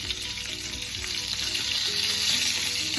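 Salmon sears in a hot pan with a loud, continuous hiss and crackle that holds steady for a few seconds, close and without any voices.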